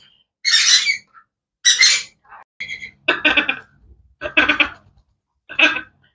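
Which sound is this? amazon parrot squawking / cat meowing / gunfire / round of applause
amazon parrot squawking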